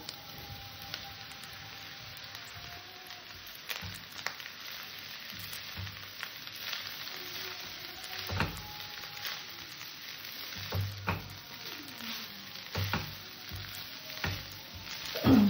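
Leftover cold rice and vegetables fry in a pan: a steady, soft sizzle runs throughout, broken by occasional scraping stir strokes and pops, with no talking.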